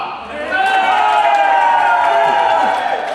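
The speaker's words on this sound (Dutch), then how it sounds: "Meisken, even een heel veel applaus voor Piet Dalman!" A crowd at the Aaipop pop festival in Nijland claps, cheers and whoops in a steady, loud wash that swells and holds for several seconds, with raised voices mixed in.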